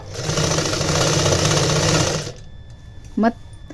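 A sewing machine stitches a long blouse, running in a loud, steady, rapid whir for about two seconds before stopping. A short voice follows in the quiet.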